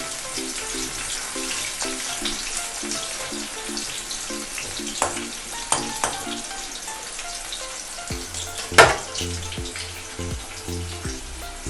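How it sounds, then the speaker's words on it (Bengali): Bitter gourd slices frying in a pan for a coconut shukto, a low continuous sizzle with a few sharp knocks and a brief scrape near the end, no one speaking. "উচ্ছেটা একটু লাল হয়ে ভাজুক"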